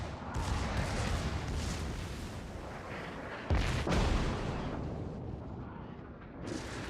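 Battleship main guns firing in the World of Warships game aboard the USS Colorado, a loud rumbling roar of heavy booming salvos with a fresh blast partway through, dense and continuous.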